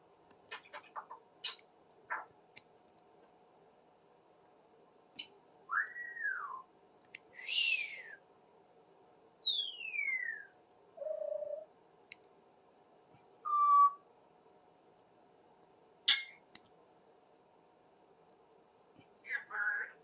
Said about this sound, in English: You Canadian bird, eh, Smokey?